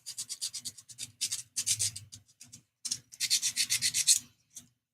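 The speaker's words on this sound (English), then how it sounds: "sanded to make a good safe edge for our elastic bands to shoot off of and not catch and rub and cause problems." Hand sanding of a wooden edge on a workshop project, heard as rhythmic rasping strokes in quick bursts with short pauses between them, close and fairly loud.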